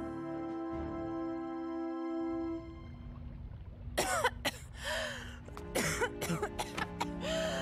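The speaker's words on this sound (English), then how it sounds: "Every time I coughed" A few rough coughs and throat-clearing sounds from an animated film, close by, breaking through a steady low hum in the background.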